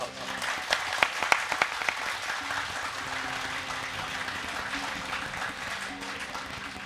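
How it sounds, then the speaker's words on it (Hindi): An audience at a religious discourse claps, a soft steady patter of applause with a few sharper close claps early on, fading to a low crowd wash while speech-like murmur continues underneath. "एक बार तालियां बजाओ सब"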